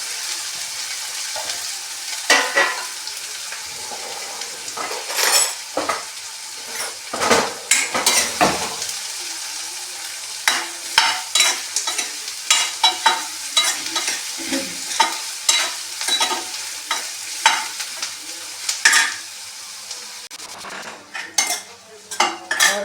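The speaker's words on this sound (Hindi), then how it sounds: "हींग डालने के बाद मैंने ये प्याज डाल दिया।" Chopped onion sizzles steadily in hot oil seasoned with asafoetida while a metal spoon scrapes and stirs the pan, the clinks and scrapes irregular and close, with no talking over the frying.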